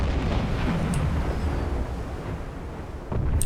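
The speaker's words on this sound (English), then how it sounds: "Torpedo impact." A torpedo striking a ship in a convoy attack in the submarine game Silent Hunter 4: a deep, heavy rumbling explosion that rolls on continuously, with a second low boom swelling near the end.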